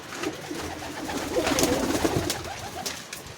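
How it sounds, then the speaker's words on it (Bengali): Many pigeons, including Pakistani breeds and flying Giribaz pigeons, coo steadily in a crowded loft, a dense overlapping murmur of soft throaty calls held at a moderate level throughout. "প্রচুর পায়রা রয়েছে আর কি, পাকিস্তানের পায়রাটারা রয়েছে।"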